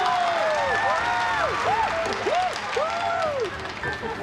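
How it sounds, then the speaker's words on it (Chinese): Applause and crowd noise at a company annual party as a dance act is introduced, a steady wash of clapping that holds for several seconds beneath a talking voice. "掌声有请。"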